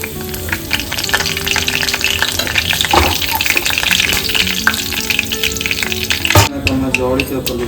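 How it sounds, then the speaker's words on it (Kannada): Mustard seeds and curry leaves crackle and sizzle loudly in about two spoons of hot oil for a vegetable palya tempering, with steady frying and stirring throughout and a sharp burst near the end. "ಇವಾಗ ಒಗ್ಗರಣೆ ಹಾಕ್ತೀನಿ ಇದಕ್ಕೆ"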